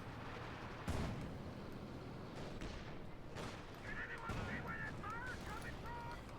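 Gunfire in a Company of Heroes 2 battle: scattered sharp shots and bursts, faint and distant, with a voice talking briefly partway through.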